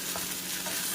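Food in a pan being stirred over a steady sizzle, a brief close sound of scraping and frying.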